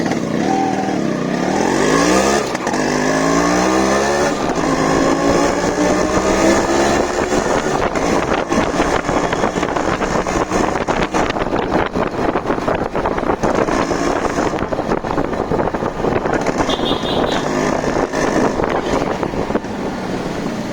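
Motorcycle, a Royal Enfield-type rocket bike just fitted with a new air filter box, ridden steadily past wind-buffeted microphone, its engine note rising through gears and holding a continuous loud drone throughout.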